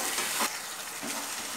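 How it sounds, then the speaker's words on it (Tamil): Bitter gourd sautés in ground masala in a pan for Tamil pagarkai kuzhambu, giving a steady close sizzle with two brief louder stirring scrapes. "இந்த மசாலையே வந்து இந்த பாவக்காய் கொஞ்ச நேரம் வதக்குங்க"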